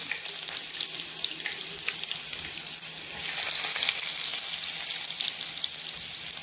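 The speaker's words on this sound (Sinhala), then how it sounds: "රන්වන් පාට වෙන බැදෙනවා" Garlic fries in a pan until golden, a continuous close crackling sizzle that grows louder and busier partway through, with no voices.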